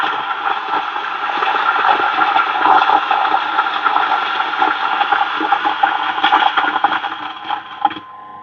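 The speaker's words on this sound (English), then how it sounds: "Just let it grind for a while." Coffee grinder grinding roasted Coterra coffee beans, a loud, continuous whirring buzz with gritty crackle that runs steadily for several seconds, then ends with a small knock and falls away.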